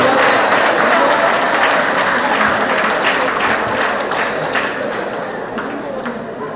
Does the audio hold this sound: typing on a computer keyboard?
no